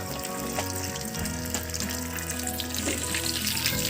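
Mustard seeds sizzle and crackle in hot oil in a pan for a Kerala-style prawn roast, a steady dense frying hiss with scattered pops and faint background tones throughout, close and fairly loud.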